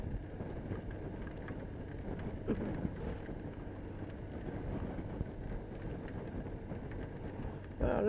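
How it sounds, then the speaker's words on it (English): Steady rain and wind noise during a motorcycle ride in Devon on a BMW R1200RT, a continuous soft wash of rain and air rushing over the bike at low level throughout. "let's not let a bit of rain spoil our day."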